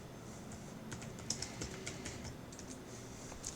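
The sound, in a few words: typing on a computer keyboard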